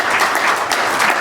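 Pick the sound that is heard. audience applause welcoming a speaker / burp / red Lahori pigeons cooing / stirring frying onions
audience applause welcoming a speaker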